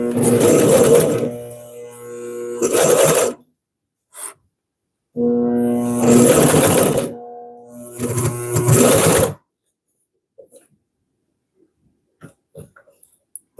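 A Consew CP206RL sewing machine stitches a handbag, running in loud close bursts of a few seconds each with pauses between, then falling quiet apart from small handling clicks.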